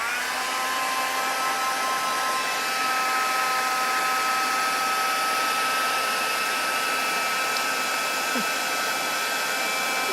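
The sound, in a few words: heat tool melting gold embossing powder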